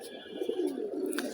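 Pigeons on a home rooftop cooing, a soft low throaty coo close by, continuous through the short stretch with a faint chirp near the end.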